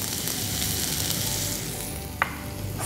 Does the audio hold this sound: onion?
yes